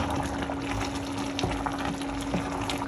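A pot of bograch, a Transcarpathian goulash soup, bubbles and simmers continuously under a lid with soft popping and gurgling over a low steady hum, close by, with no talking.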